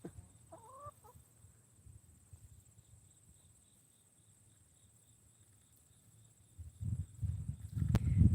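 Hens that are just beginning to lay cluck and chuckle in a short burst near the start, followed by long quiet stretches with faint background murmur and louder thumping handling noise building toward the end.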